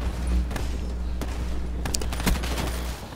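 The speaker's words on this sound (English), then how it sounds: "This is not a sniper, this is like a machine gun or something." Rapid automatic gunfire in a first-person shooter video game, a dense fusillade of sharp shots with a few louder bursts standing out over steady game background noise; no one talks.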